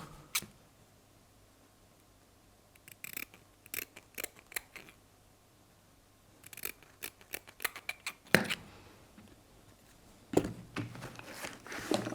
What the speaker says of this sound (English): Just cut them to a good size.